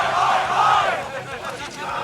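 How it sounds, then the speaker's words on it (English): Crowd at the Battle Arena Melbourne Guilty Gear Strive grand final shouting the Aussie oi oi oi chant, a loud, dense roar of many voices that swells then eases over two seconds. "oi, oi chant going on in the crowd"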